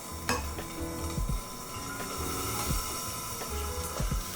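Shrimp rosé risotto being stirred in a pan, with repeated scraping and clinking of the utensil against the pan over a soft sizzle, steady and close throughout.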